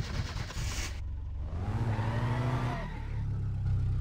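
A car engine revving in the video game My Summer Car, rising and falling in pitch while idling and accelerating, loud and close with no talking.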